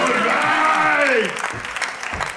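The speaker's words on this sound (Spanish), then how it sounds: "¡Fuerte aplauso para Ignatius!" A comedy club crowd applauds and cheers for comedian Ignatius Farray, loud and dense at first, then thinning, with a voice shouting over the end.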